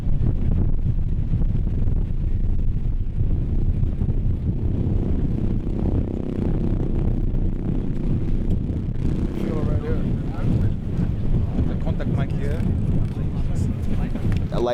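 Wind buffets the microphone outdoors in cold, wet Icelandic weather during a film shoot, a steady low roar running the full length with some faint background sound.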